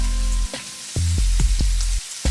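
Hearts of palm sautéing in a hot pan for vegan shrimp and grits, a close, loud sizzle broken by brief scraping stirs and short pauses, with no talk.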